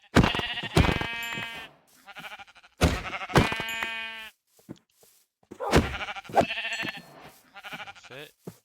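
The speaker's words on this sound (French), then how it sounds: "Déjà, je vois des moutons là-haut." Sheep in the Minecraft video game bleat in three loud, separate bursts with short pauses between them, each a wavering, nasal cry; a fainter call trails off near the end.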